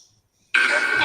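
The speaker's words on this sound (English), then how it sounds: "I coughed." A single short, harsh cough bursts out close and loud after a near-silent pause, in a dark space during a paranormal investigation.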